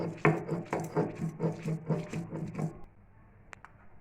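Steady, rhythmic grinding strokes rasp back and forth close by on a grinding stone, crushing fried prawns and dried chillies, about half a dozen in a row, then stop and leave near silence.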